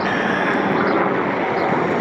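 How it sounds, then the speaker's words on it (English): A large military helicopter flying over Central Park produces a loud, steady, broadband rotor and engine roar that fills the whole stretch without letup, with no talking over it. "Look at this huge ass helicopter coming out of nowhere."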